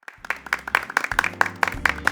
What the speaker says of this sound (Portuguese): Uma salva de palmas para o Alberto.